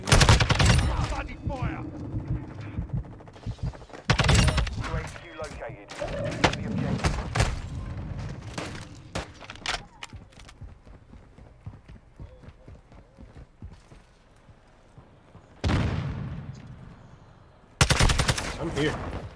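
Gunfire in Modern Warfare 2 multiplayer: loud, rapid automatic bursts crackle in several clusters, dropping to quieter stretches before sharp bursts return near the end, with voices talking amid the shooting.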